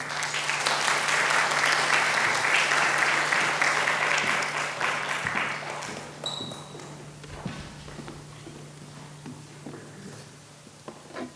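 Audience applause fills a symposium hall on sustainability and fashion, loud and steady for several seconds before thinning to scattered claps, with a few thumps and light handling sounds trailing off at the end.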